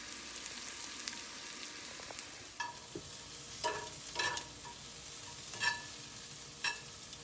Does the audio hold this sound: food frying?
yes